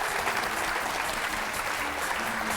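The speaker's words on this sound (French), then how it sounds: "On les applaudit fort, bien sûr," A studio audience on a French television game show applauds steadily, a dense wash of clapping that stays even and fairly loud for a few seconds without speech.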